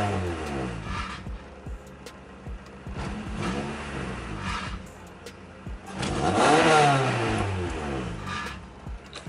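A Honda H22A engine in a Honda CD5 revving while parked, a few quick blips then a longer, louder climb and fall, close by with little else heard.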